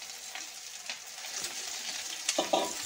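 Leafy greens hit fried onions in a hot wok, setting off a steady close sizzle with a few sharper crackling bursts as they are stirred, and no talking.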